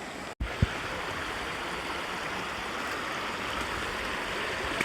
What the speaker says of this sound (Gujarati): સામેથી નદી આવે છે